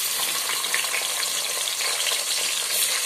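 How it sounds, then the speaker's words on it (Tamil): Large onions sauté in ghee and oil for chicken biryani, making a loud, continuous close-up sizzle with the scrape of stirring and no speech. "இத வந்து நல்லா ப்ரௌன் கலர்ல வர வரைக்கும் வதக்கிக்கணும்"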